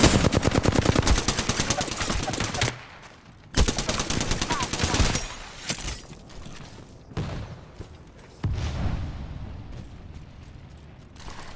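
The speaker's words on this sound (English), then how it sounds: "Enemies are shooting at me." Rapid bursts of enemy gunfire in the Apex Legends battle royale shooter, loud and close, with repeated automatic volleys broken by short pauses and a few single shots.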